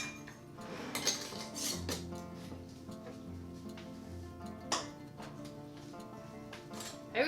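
Glass canning jars of sweet potatoes clink and knock as they are set into a metal canner, a few clear clinks over a steady low background hum.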